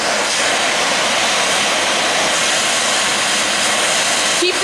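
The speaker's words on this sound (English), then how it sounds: "You will need to heat the surface with the flame until a molten pool of metal forms" Oxy-acetylene cutting torch flame heating a steel surface, a steady loud roaring hiss that holds continuously and close throughout, with no talk over it.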